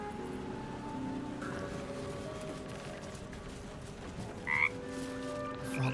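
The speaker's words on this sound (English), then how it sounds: "Frog's entire body shakes. It ribbits erratically as if in pain." Frog from Baldur's Gate 3 croaking erratically as if in pain, a run of uneven ribbits over a soft rain-like game ambience, with one louder squeaky croak near the end and no talking.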